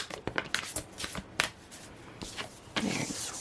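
Tarot cards being shuffled and drawn by hand, a quiet run of papery flicks, slides and soft snaps in irregular bursts, close and fairly faint with no talk.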